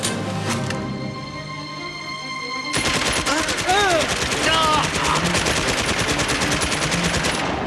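A cartoon ammunition dump blows up after a missile strike, starting with a low roar and then breaking into a long, loud, crackling run of rapid gunfire-like detonations and whistling debris that keeps going to the end.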